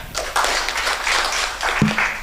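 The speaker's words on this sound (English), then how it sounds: "Let's give him a clap." Audience applause for a presenter who has just finished a talk at a live-streamed scientific meeting: steady, dense clapping from a room of people, fairly loud and close, holding evenly throughout with no voices over it.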